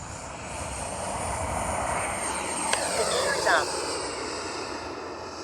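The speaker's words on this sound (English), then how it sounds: "That's a good flying jet right there." A FlyFans Baltic Bee RC jet flies overhead with a steady turbine whine that swells slightly as it passes. A brief sharp tick sounds in the middle, and a faint voice speaks beneath the engine.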